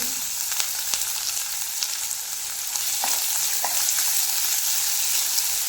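Onion frying in oil in a pan for a ridge gourd curry, a steady close sizzle with a few faint stirring clicks throughout, no voices.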